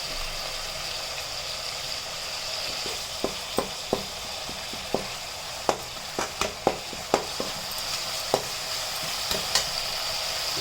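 Bitter gourd pieces with ginger frying in oil in a pan, a soft steady sizzle broken by scattered sharp clicks and taps of stirring.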